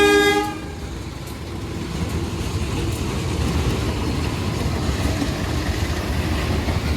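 A passenger train hauled by two locomotives, a CC203 and a CC201, sounds a short horn blast, then rolls past close by with a loud, steady rumble of wheels and wagons.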